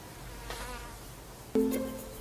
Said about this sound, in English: a fly or some sort of mosquito gets really close to your ear